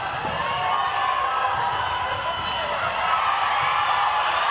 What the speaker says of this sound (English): And the crowd really getting behind Zimbabwe